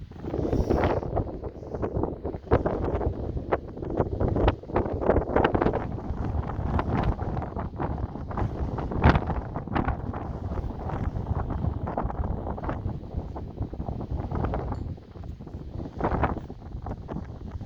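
Gusting wind outdoors ahead of a rainstorm buffets the microphone in a continuous rough rumble with repeated blasts and rustle, steady and close throughout with no talk.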